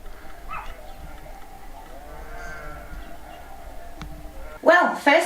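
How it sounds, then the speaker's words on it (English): A herd of goats passes with their herders on a rural Spanish farm, with faint bleats and shuffling in the background before a nearer, louder bleat at the end. "The goat herders out this morning. They were out bright and early."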